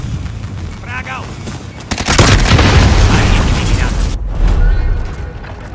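A frag grenade detonates in Call of Duty Warzone, a loud booming blast that swells from about two seconds in and rumbles for several seconds, with gunfire-like crackle and game voices around it.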